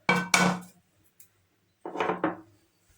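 A few short clattering knocks of a pot being handled, two quick bursts then a pause and two more, close by with no talking.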